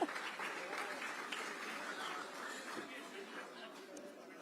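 Audience clapping steadily to welcome an honoree to the stage at a formal event attended by India's Union Home Minister, a fairly faint, continuous wash of applause with some background chatter throughout.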